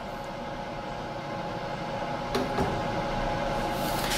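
A PM727M milling machine jogs one step under Mach3 control, giving a brief mechanical click and clunk over a steady electrical hum, with a second faint tick just after, close and alone.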